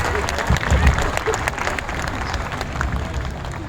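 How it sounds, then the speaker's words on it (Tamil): An audience claps and applauds together at a commemoration event, a steady, close wash of hand claps with a low rumble beneath, continuing evenly with some voices mixed in. "அப்படி உங்களுடைய தூக்கத்திலேருந்து வெளியே வந்து கைதட்டுறீங்களா?"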